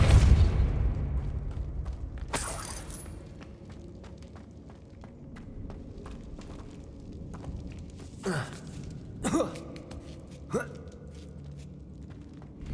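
Depulso force spell cast in Hogwarts Legacy, a low boom at the start followed by a few sharp whooshing bursts over a quiet game ambience.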